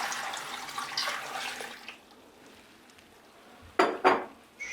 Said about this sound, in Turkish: Şöyle bir sürahi suyunu koyuyorum.